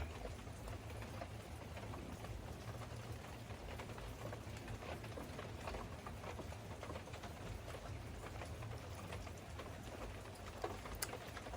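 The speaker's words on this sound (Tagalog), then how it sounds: "So, maririnig din nyo, kanina talaga yung nagsisimula yung ulan. Sobrang ano, sobrang ang lakas." Heavy rain falls steadily in a constant dense hiss of drops striking surfaces, faint and unbroken throughout with no voices.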